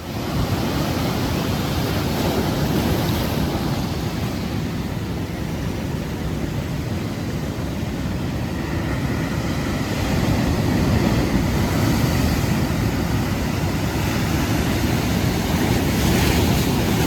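Strong ocean surf near full high tide, white water crashing and churning onshore as a steady, loud roar with wind noise throughout, no voices.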